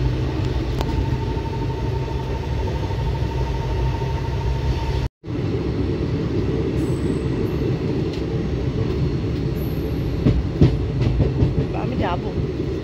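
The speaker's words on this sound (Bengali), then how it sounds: "ট্রেন এখন মালদার উপর দিয়ে যাচ্ছে।" Inside a moving Kolkata to New Jalpaiguri special train near Malda, a loud continuous low rumble of wheels on rails with rhythmic clatter fills the clip, broken by one brief dropout, with faint high whines overhead.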